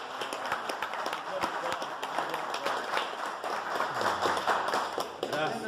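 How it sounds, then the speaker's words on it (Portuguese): A religious congregation gives a round of applause, with distinct sharp claps sounding close over a busy, noisy room while people talk and call out throughout. "Uma salva de palmas para Jesus!"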